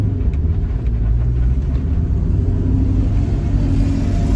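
A Ford Mustang SN95/New Edge with newly installed Maxpeedingrod coilovers drives on a road. A loud, steady low rumble of engine and road noise fills the cabin without a break.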